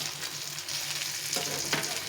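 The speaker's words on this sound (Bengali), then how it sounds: "এইভাবে উল্টে পাল্টে আবার ভেজে নিতে হবে।" Sliced potatoes frying in oil in a pan over low heat, a steady close sizzle with a faint scrape as the pieces are turned, no voices.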